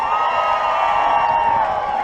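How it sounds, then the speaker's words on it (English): A crowd on a Carnival Sunshine cruise ship pool deck cheers and whoops for a team captain, a steady, loud wash of many voices without pause. "Cheer for your captain. Make some noise for Mustang Vic."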